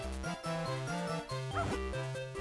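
Dog barking in the Zelda: The Minish Cap video game: short, bright, synthesized yaps over a looping chiptune-style melody, with the bark sound mixed fairly loud with the music.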